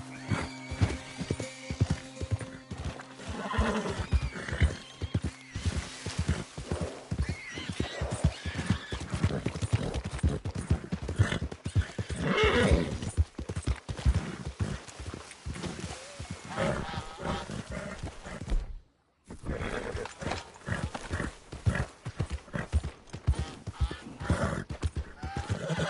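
Horse in Red Dead Redemption 2 galloping with a steady clip-clop of hooves and several loud neighs and snorts, layered over game sound effects, with one brief dropout partway through.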